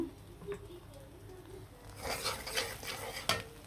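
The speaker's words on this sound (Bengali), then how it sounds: "আর এখানে আছে বেসন বেসনটা গুলে নিলাম" Gram flour (besan) batter is stirred in a bowl for potato chops and onion fritters, faint soft scraping and light utensil clinks that grow busier toward the end.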